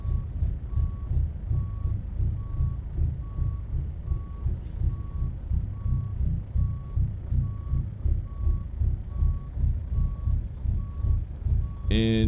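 Steady, evenly spaced reversing beeps over a low rumbling diesel engine as a truck backs up in the American Truck Simulator game, the beeps continuing through the whole stretch with a short air-brake hiss at the end.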